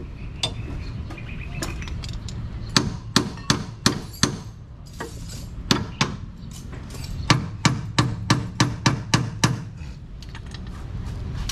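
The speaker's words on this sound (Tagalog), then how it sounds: "Pukpukan mo martilyo." Repeated sharp hammer strikes, some in quick bursts and others spaced apart, ringing metallically over a low background hum.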